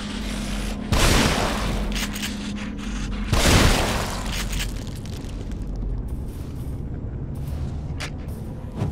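Gunfire in the video game The Evil Within: two heavy booming blasts a few seconds apart, each with a long rumbling tail, over a continuous low background din.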